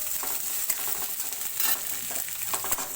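Onion frying in refined oil for veg manchurian over fairly high heat makes a steady, close sizzle. Irregular stirring scrapes and soft clinks run through it, with no talking.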